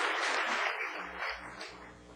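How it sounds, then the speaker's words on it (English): A boardroom audience at a board meeting gives applause for Andrew Burt, a soft, steady wash of clapping at a moderate distance that gradually thins out. "let's give him a round of applause"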